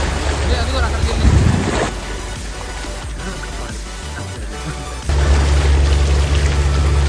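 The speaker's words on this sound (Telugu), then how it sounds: "సముద్రంలో వేటకి వెళ్తున్న పడవలు అయ్యి" Fishing boats head out to sea off Nizampatnam harbour and beach, a steady engine drone and rumble under wind and surf noise that swells louder near the end.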